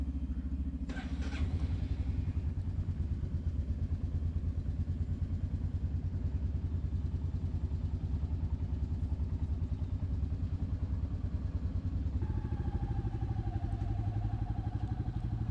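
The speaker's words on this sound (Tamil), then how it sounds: "நம்ம கிளம்புறதுக்கு முன்னாடி பைக்ஸ் வந்து ஒரு 5 மினிட்ஸ் வார்ம் அப் பண்ணிக்கலாம் கைஸ்" Royal Enfield Meteor 350 motorcycles idle during warm-up in the Kolli Hills, giving a steady low thumping engine rumble that stays constant throughout, with a brief higher whine near the end.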